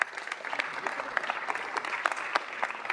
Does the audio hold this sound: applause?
yes